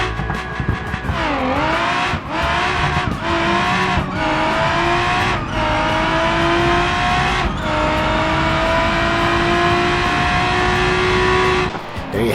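Bruckell LeGran muscle car in the BeamNG driving game roaring through a drag run, its engine loud and close as the pitch climbs through several gear shifts, each marked by a brief dip before climbing again, then cutting off at the end.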